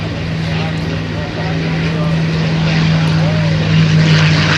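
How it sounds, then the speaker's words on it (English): A P-51 Mustang propeller aircraft flies during a USAF Heritage Flight at the 2010 NAS Oceana airshow, its steady engine drone rising slightly and sustained under crowd and announcer noise. "He's flying a Mustang today"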